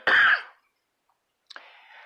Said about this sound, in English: I'm sorry for this persistent cough.